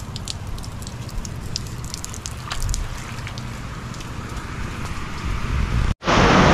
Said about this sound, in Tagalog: Ayun o, lakas ng ulan.